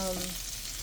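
Honey roasted fish fry in butter in a pan, giving a brief, faint, steady sizzle with no talk.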